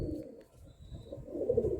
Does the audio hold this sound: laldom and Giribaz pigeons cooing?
yes